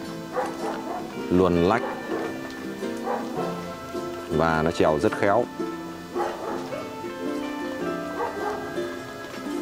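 White shaggy Bắc Hà mountain dogs, a Hmong breed, giving a few excited yips and whimpering barks in bursts, close by, mixed with someone talking throughout.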